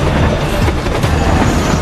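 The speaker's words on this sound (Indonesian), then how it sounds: "mereka berdua hampir tertabrak kereta api" Train rumbling past in a film chase scene, a loud, close, continuous roar of rail wheels and carriage clatter.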